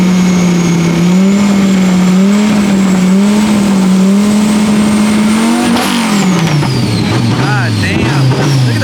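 A drift car with an LS engine and ProCharger at a Formula Drift event revs hard and close, its loud, steady engine note holding, then swooping down and back up in pitch.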